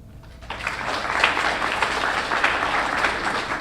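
Audience applause at an award ceremony for a USA TODAY reporter, starting after a brief quiet moment and swelling into a steady, dense clapping from a sizable crowd that holds until the end.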